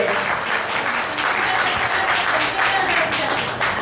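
A hall audience applauds warmly at the eighth anniversary celebration of a senior women's group, a dense, continuous clapping that stays loud and even from start to finish.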